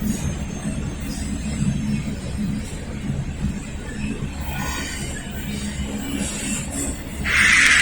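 A southbound Norfolk Southern freight train passes in Lynchburg, Virginia, a steady low rumble of rolling cars with a rise in noise near the end.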